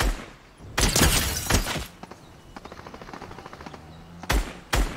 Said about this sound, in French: C'est moi qui tire.